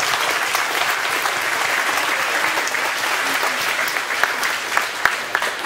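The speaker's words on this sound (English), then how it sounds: "Please give them all a round welcome of applause." Loud, sustained applause from a town hall audience welcoming officials, many hands clapping steadily throughout with a few sharper claps standing out near the end.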